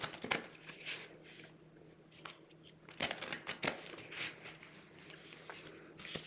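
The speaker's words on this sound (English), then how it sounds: "Got some cards, going to ruffle shuffle them." A deck of playing cards being riffle shuffled several times, each a crisp fluttering burst of snapping cards, close and clear in a quiet room.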